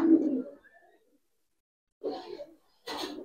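Silver Giribaz high-flyer pigeons give a soft, close coo, then pause, and then two short throaty bursts follow in a quiet setting.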